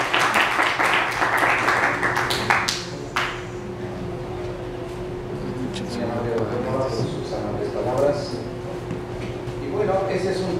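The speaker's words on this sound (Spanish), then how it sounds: "les pido le demos un fuerte aplauso al doctor Roberto Ríos Nava" An audience at a hospital medical conference on nasal fractures gives a short round of dense clapping for a doctor. The clapping fades after about three seconds, leaving room noise and someone speaking quietly.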